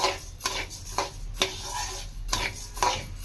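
A spoon scrapes and clinks against a kadai as a fried mixture for bellam sunnundalu is stirred with the stove off, in a repeated, moderately loud rhythm of sharp strokes.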